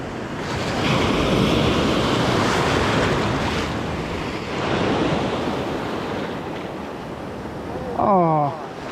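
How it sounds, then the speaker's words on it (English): Ocean surf breaks on a sandbar while someone stands knee-deep fishing, giving a loud, continuous wash of waves with wind noise hitting the microphone, and a short voice near the end. "where you see those waves forming in front of us"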